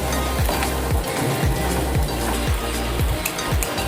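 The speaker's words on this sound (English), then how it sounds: "Now in goes macaroni, give it a nice mix." Cooked macaroni being stirred in a sizzling pan, steady frying hiss with a regular rhythm of thumping spoon strokes about twice per second, close and loud.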